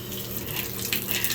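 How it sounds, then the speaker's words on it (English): Motel bathtub faucet with questionable plumbing running at full blast, a close, steady gushing splash of water into the tub, heard alone. "So I turn on the water, and again, this is full blast."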